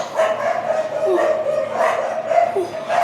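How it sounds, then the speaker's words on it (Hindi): Several dogs bark outside, repeated yapping barks in an uneven rhythm at moderate distance, steady and fairly loud over the whole stretch. "सॉरी बाहर कुत्ते भौंक रहे हैं"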